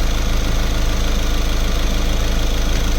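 A car engine running at idle, a steady close rumble with an even low throb that stays level for the whole stretch, with no talking and no clear rise in revs.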